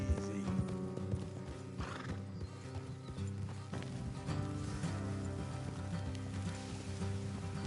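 Clip-clopping horse hooves on a hard surface with a whinny, steady and close, over a dense layered background, in the video game Red Dead Redemption 2.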